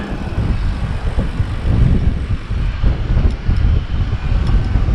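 Strong wind buffets the microphone in loud, uneven gusts on Favignana Island off western Sicily, a continuous low roar with no voices.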